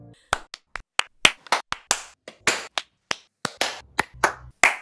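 A group of people clap together in a round of applause, about a dozen sharp, separate claps landing in a loose, uneven rhythm, close and loud with short silences between them.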